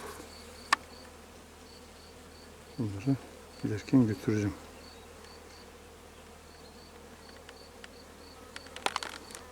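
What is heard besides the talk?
honey bees buzzing at hives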